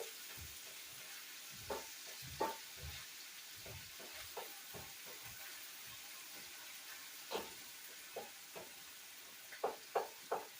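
Roux stirred in sausage grease for gravy, a soft sizzle under scattered scraping strokes of a utensil against the pan, close and quiet with no talking.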